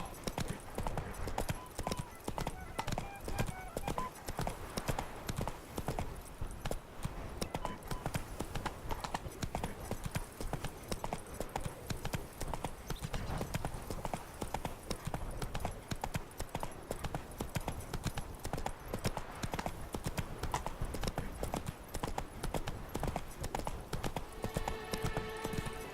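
Roach the horse's hooves clip-clop in The Witcher 3: Blood and Wine, a quiet, steady, even trot that continues throughout.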